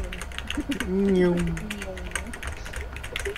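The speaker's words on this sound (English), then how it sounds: "I could hear Raymond's clacking freaking keyboard" A computer keyboard clacks steadily as its keys are pressed hard, a continuous run of sharp taps under a short spoken word and other background sound.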